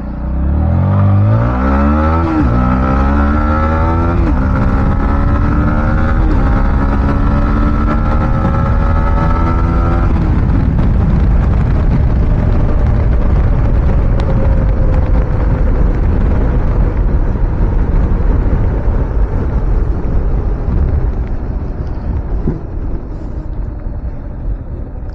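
A Yamaha MT-15 motorcycle ridden around a ground, its engine revving loud and close through rising gear pulls in the first seconds, then settling into a steady drone that slowly fades.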